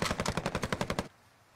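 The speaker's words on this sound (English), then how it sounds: "That bullet whizzed by me somewhere down to the right." Rapid automatic gunfire in Call of Duty Warzone 2.0 rattles out as a quick burst of about a dozen evenly spaced sharp shots, loud and close, then cuts off abruptly into quiet.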